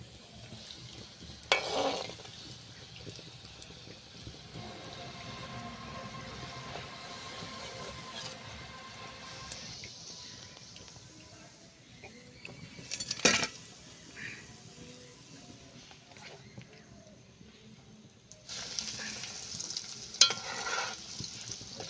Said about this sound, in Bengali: একটা চপ তেলে দেওয়ার কুড়ি সেকেন্ড পরে আর একটা চপ দিলেও হবে